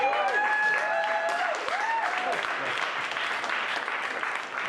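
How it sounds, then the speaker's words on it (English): A stand-up comedy audience at a gallery venue claps on request, with a broad wash of steady applause under a high whistle-like tone, sustained for a few seconds before tapering slightly. "Clap for me for a sec."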